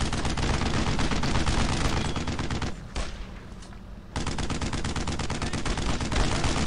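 Sustained, loud machine gun fire in a World War II shooter, Brothers in Arms: Road to Hill 30, rattling almost without pause, with a brief lull around the middle before the bursts resume at full intensity.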